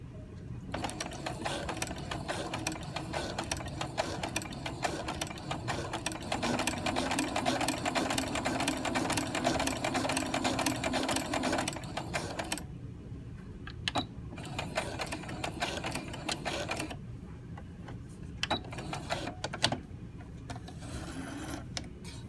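Sewing machine fitted with a walking foot stitching through fabric layered with batting, a steady rapid mechanical clatter for about twelve seconds, then shorter stop-and-start bursts.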